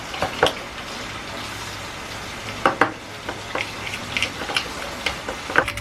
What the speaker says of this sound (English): Can't we just stir this together?